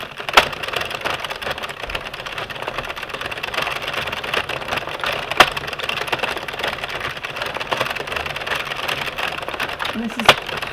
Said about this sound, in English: This is pretty much as fast as I can crank.